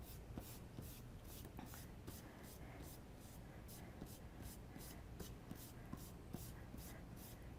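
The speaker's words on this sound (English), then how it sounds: "I'm going to use my kneaded eraser to clean it up" Kneaded eraser rubbing pencil marks and smudges off paper on a horse head and neck portrait drawing, a quiet, steady run of soft scrubbing strokes repeating in close, even rhythm.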